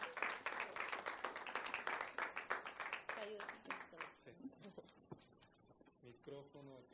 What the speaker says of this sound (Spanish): un aplauso, por favor, para Celia